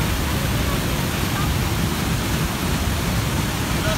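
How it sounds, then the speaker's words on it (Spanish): Water spilling two or three metres down onto stepped terrace steps on a rainy afternoon, foaming as it lands; a steady, dense rushing roar holds evenly throughout, close and loud with no pauses. "el sonido es de la terraza, el agua al caer dos o tres metros en la terraza"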